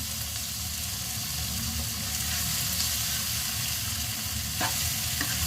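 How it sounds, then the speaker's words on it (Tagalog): Shrimp paste (bagoong alamang) sautéing with tomatoes in a pan, giving a loud, steady sizzle with scraping stirring throughout and a couple of sharp utensil clicks near the end; no voices. "Igisa na natin yung ating bagoong alamang."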